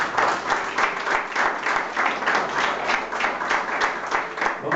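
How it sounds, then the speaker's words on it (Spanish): Church congregation applauding during a Spanish-language service, dense steady clapping that holds throughout, loud and close with no break. "Denle un fuerte aplauso al Señor en esta mañana."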